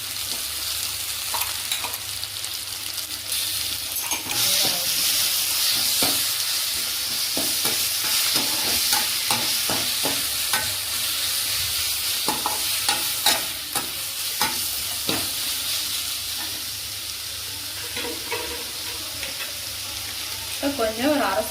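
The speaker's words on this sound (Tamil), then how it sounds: "இப்போ இஞ்சி பூண்டு பேஸ்ட்டு போட்டுக்கலாம்." Onions and ginger garlic paste sizzle steadily in a pan, with frequent clattering stirs of a spoon scraping the metal throughout, loud and close.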